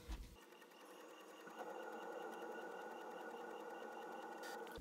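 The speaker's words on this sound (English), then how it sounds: "All right, page two printing now." A desktop printer prints a page, starting with a short mechanical clunk before settling into a steady, faint whirring and buzzing feed that runs continuously and ends with a brief click.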